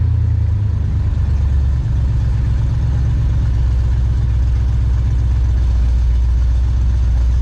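A 1968 Chevy Bel Air engine that had sat for eight years idles close by, a loud, steady low rumble that holds even throughout.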